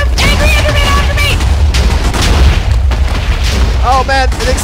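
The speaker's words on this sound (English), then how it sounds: "the explosion's picking up" A sustained, booming explosion rumbles loudly in the video game Minecraft, with continuous crackling blasts and heavy low-end roar. Excited voices break in over it at several points.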